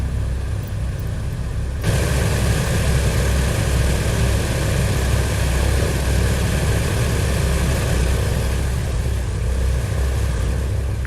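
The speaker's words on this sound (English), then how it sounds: "Boy, those engines are really loud." Aircraft engines idling on the ground in a flight simulator game make a loud, steady propeller drone with a constant low rumble and whine, rising in level after a couple of seconds and then holding unchanged throughout.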